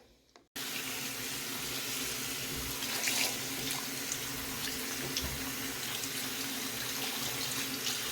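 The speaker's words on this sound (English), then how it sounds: "So now we're gonna go ahead and release the water, and I'm just gonna rinse the apple cider vinegar rinse out of the hair" Water runs steadily from a tap into a sink, rinsing an apple cider vinegar rinse out of pre-washed crochet human hair; a continuous close splashing flow that lasts throughout after a brief quiet start.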